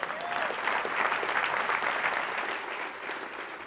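Audience at a Boys and Girls Clubs awards presentation applauds, a sustained wash of many hands clapping at moderate loudness that gradually tapers off.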